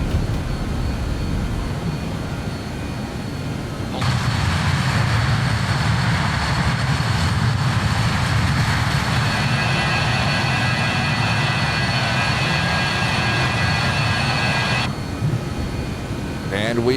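A BAe-146 jet in a flight simulator game spools up for takeoff, a broad steady engine roar surging in after a quieter idle, holding loud and even for about eleven seconds before easing back.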